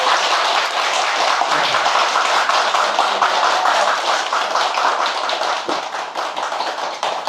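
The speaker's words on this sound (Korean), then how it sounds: "여기서 박수 한번 쳐드리도록 하겠습니다" Sustained clapping from an audience at a Buddhist temple service, dense and steady throughout with no voices over it, tapering slightly near the end.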